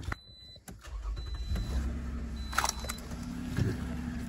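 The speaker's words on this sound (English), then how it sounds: "So I'm gonna start the car." A car engine cranks and starts close by after a few clicks, then settles into a steady idle rumble beside the exhaust pipe, with a faint electronic beep from a nearby device.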